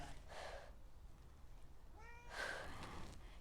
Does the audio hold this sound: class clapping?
no